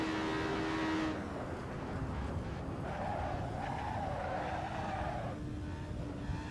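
A race car at the Nürburgring slides in oversteer, its tires squealing in a long wavering screech over a loud droning engine, with no talk.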